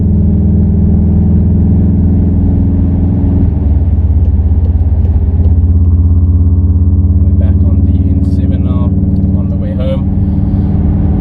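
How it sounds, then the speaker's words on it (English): A 2019 Volkswagen Golf 7.5 R's throaty exhaust drones steadily with low engine rumble throughout, the pitch shifting as it accelerates; faint voices occasionally underneath. "you can hear that exhaust. The exhaust note is crazy on this thing"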